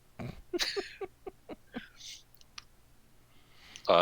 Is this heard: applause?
no